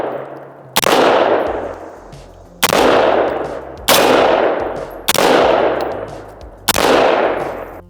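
Five loud, close 5.56 rifle shots fired at body armor, spaced roughly one to one and a half seconds apart, each a sharp crack with a long ringing decay.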